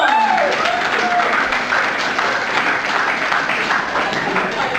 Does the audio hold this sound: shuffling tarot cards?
no